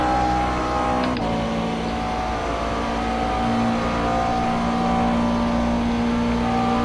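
A race car in iRacing laps the banking at Homestead during Grand-Am practice, its engine a loud, sustained tonal drone that holds steady with a slight pitch shift, close and continuous, with no talk.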